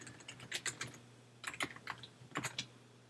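Bursts of quick, close clicking keystrokes on a computer keyboard as an email address is typed, arriving in three short clusters separated by brief pauses, quiet and alone.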